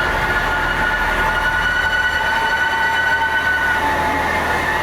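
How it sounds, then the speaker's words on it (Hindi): A modern passenger train in Myanmar bound for Rangoon rumbles steadily, with a loud constant roar of wheels on rails and a faint high metallic whine running throughout, heard from on or beside the train. "भाई ये तो बिल्कुल ही लेटेस्ट वाली ट्रेन है भाई"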